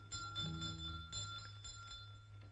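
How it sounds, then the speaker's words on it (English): A hand bell rings repeatedly in a film scene, several bright clanging strokes in quick succession over a low steady hum, loud and close. "I've been ringing this bell incessantly for the last 10 minutes."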